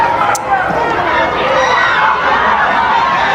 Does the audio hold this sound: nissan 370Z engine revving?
no